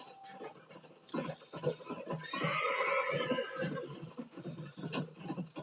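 A horse in Red Dead Redemption on PlayStation 3 lets out a loud, drawn-out whinny that rises and wavers for a couple of seconds, framed by game sounds and a voice talking before and after.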